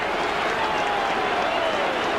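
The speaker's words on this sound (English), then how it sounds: "big Halifax crowd delighted by it all" A big Halifax rugby league crowd cheers and applauds a try at a 1987 Challenge Cup third-round match against Hull KR, a steady broadband roar of clapping and voices with a commentator's tone threading through.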